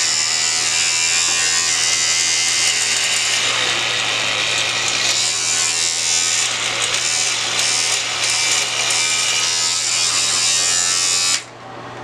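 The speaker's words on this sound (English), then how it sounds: "you start shaving right underneath the jawline all the way down" An electric shaver buzzes steadily and loudly as it shaves beneath the jawline while trimming a goatee, a continuous close whine that cuts off abruptly near the end.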